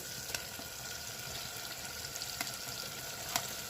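Crushed fresh pigeon peas, chopped in a chopper, sizzle in hot oil for lilva nu dariyu, a steady soft frying hiss with a few faint clicks of stirring.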